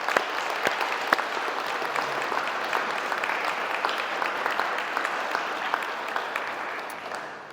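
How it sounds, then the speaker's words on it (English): An indoor audience at a Ninewells Hospital 50th anniversary celebration gives a sustained round of applause, dense steady clapping at moderate volume that tapers off at the end. "can we just have a round of applause for that"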